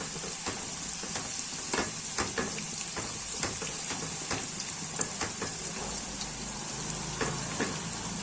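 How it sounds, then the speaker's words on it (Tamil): Garlic fries in oil in a pan for homemade garlic pickle. A steady close sizzle runs throughout, punctuated by frequent light clicks and scrapes from stirring. "இதை நல்லா வதக்கிக்குவோம்"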